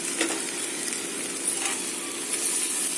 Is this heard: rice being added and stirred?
yes